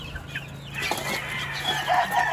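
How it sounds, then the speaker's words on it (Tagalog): Boston Roundhead and Lemon gamefowl roosters kept outdoors on a farm cluck and call close by, short bursts of fowl noise over a low steady background hum. "nasa labas itong mga tandang"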